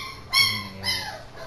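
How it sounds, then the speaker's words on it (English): Several puppies whimper and yip in short bursts, a litter of nine heard indoors with two clearer whines standing out over a low background. "puppies are in the background right now, guys"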